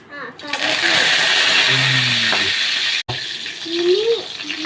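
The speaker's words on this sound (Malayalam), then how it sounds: "ചിന്നു അച്ഛൻ എണ്ണ ഒഴിച്ചിട്ട് കടുക് ഇട്ടു ഇനി കരിയേപ്പില ഇടുന്നുണ്ടേ" Mustard seeds and curry leaves sizzle and crackle steadily in hot oil in a home kitchen, a continuous loud frying hiss with brief spatters, with people talking over it.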